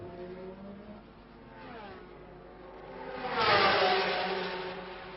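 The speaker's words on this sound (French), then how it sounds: "Sa voiture tourne comme une horloge, elle fait un bruit, elle provoque un bruit très régulier à son passage devant les stands." A 1966 Formula 1 race car at the French Grand Prix passes in front of the pits, its engine note steady and regular, rising to a loud peak as it goes by, then fading.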